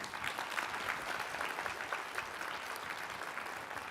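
A conference audience claps after a keynote talk, a dense, even round of applause that fills the space steadily at a moderate distance.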